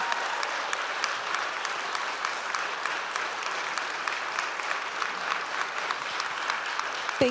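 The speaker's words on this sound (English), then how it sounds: "I encourage everyone here to stand up and applaud our wonderful district." A school board meeting audience claps together in sustained, even applause that holds steady throughout, a dense patter of many hands in a meeting room.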